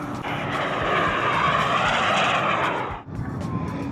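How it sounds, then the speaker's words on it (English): A low-flying aircraft passes over a state park pier, a loud sustained engine roar that swells and holds before dipping briefly near the end. "Comes for a little low flyby."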